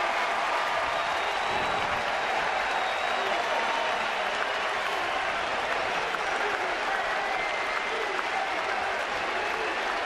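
Baseball stadium crowd at a Dodgers–Giants game in San Francisco roaring steadily as Abreu comes up to bat with two outs, a dense, continuous wash of cheering and applause throughout.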